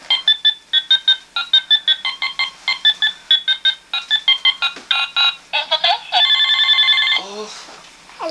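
A telephone rings in a home at Christmas, with a long run of evenly spaced double trills that turn into a continuous ring near the end, loud and close with no talk over it.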